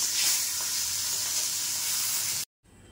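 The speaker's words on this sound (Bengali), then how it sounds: "তাতে পেটি মাছটা ভাজা হয়ে যাক" Marinated belly-cut fish fries in a pan with a loud, steady sizzle that cuts off abruptly near the end.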